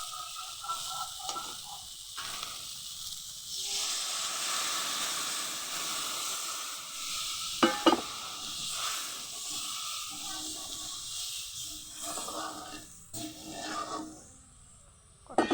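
Coconut milk poured into hot spiced oil hisses and sizzles steadily, settling into a soft continuous simmer with a few clattering stirs, moderately near.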